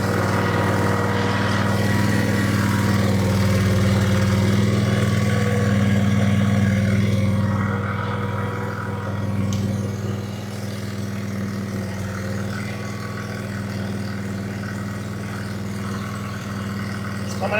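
An Ingersoll 3018 garden tractor engine runs steadily with a deep, loud droning hum, close by and continuous, easing slightly in level partway through with no talking.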